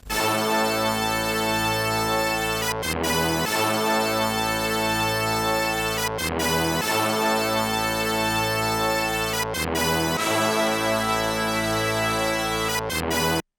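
Bright synth brass stabs, the FS brass sound, play in a repeating loop over a steady beat, full and loud, with brief gaps marking each phrase.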